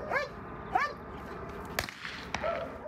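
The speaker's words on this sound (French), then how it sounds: "Ici, Pamas, un chien champion de France du chien militaire. Il dévoile ses talents sous les yeux des lycéens." A champion French military police dog barks and yips in short, sharp bursts during a regiment's demonstration for high school students, with a few sharp cracks and some background noise between the calls.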